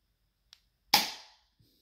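Single sharp crack of a Derringer airsoft pistol firing a BB, close and loud with a short decaying tail, preceded by a faint click and followed by a soft tap.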